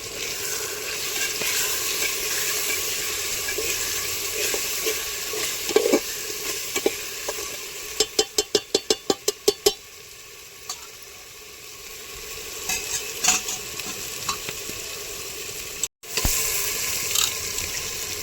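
Red chili powder, turmeric and biryani masala stir-frying for chicken biryani give a steady sizzle under the scrape of a spoon, with a quick burst of rapid clinks partway through and no talking.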